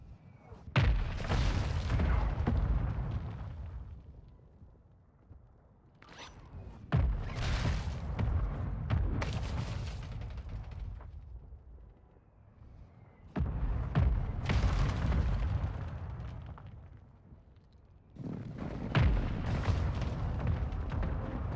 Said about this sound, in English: Hostiles launched a mortar strike. Find cover.